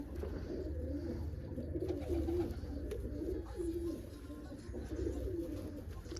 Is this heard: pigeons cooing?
yes